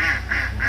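A duck on a farm quacks three times in quick succession, loud and close, with a steady low hum in the background.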